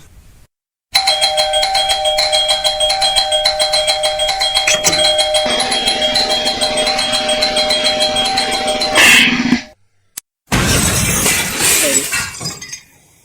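A doorbell rings continuously and loudly for several seconds with a bright, sustained buzzing electronic chime, cuts out briefly, then returns with a harsher burst.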